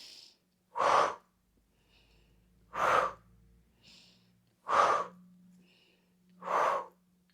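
A person breathes in and out slowly during a back exercise: four loud, close, airy breaths spaced about two seconds apart, with quiet pauses between them.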